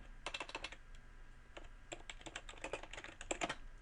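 Keys clatter on a computer keyboard during Excel work, with bursts of quick typing broken by short pauses, close and fairly quiet.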